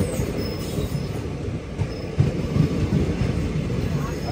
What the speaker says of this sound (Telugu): over taking వాప్ 4 locomotive